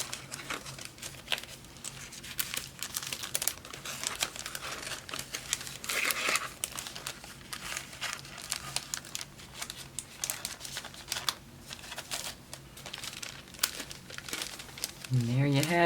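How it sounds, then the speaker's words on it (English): Small clear plastic bags for packaging cards crinkle and rustle continuously up close, a dense crackling texture with brief louder bursts, and a voice begins speaking at the very end. "These cards came with these little clear bags."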